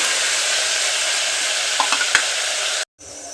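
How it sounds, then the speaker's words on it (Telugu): Curry leaves, coriander and spices fry for a spinach dal (palakura pappu), a close, even sizzle with a few stirring taps before the sound cuts out abruptly near the end. "మొత్తము బాగా ఫ్రై అవ్వాలండి"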